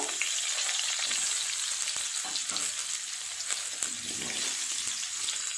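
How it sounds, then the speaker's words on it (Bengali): Potato pieces fry in hot oil left over from frying paneer, a steady, dense sizzle that holds evenly for several seconds, with light stirring taps and no voices. "আলুগুলো লাল লাল করে ভেজে নেব"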